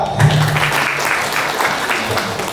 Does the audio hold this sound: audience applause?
yes